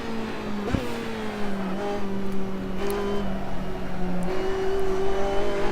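Race car engine in the driving game Assetto Corsa, a steady droning tone that rises and falls with throttle through a whole lap run, loud and continuous with a brief sharp knock near the start.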